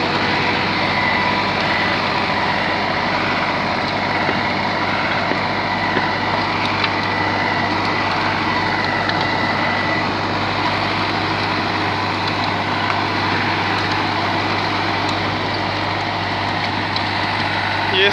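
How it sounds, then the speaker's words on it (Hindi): A New Holland 3600 47 hp tractor engine runs a rotavator, giving a steady, loud, continuous mechanical drone with a constant low hum that holds unchanged for the full eighteen seconds. "रोटावेटर चला रहा है न्यू हैंड 3600"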